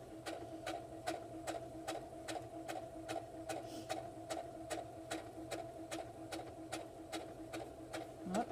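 A sewing machine stitches a pocket onto an apron, running steadily and close with a fast, even rhythm of needle strokes over a constant motor hum, pausing only briefly near the end.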